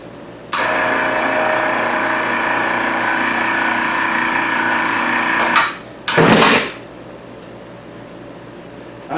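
A shop mill crane is lowered by its ratchet mechanism, giving a loud, continuous mechanical whirring and clicking for about five seconds. After a short pause comes a brief second burst.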